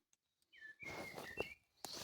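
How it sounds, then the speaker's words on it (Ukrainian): Several birds chirp and whistle in short, bright calls, fairly close and clear against a quiet, rain-soaked forest background. "Чуєте пташечки?"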